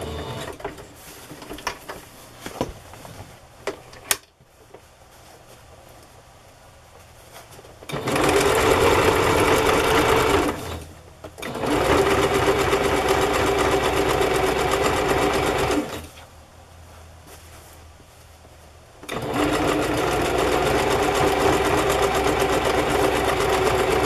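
A sewing machine stitches a collaged fabric journal cover with a vintage sewing card, running in three long, loud, steady whirring bursts separated by quiet pauses of handling and rustling.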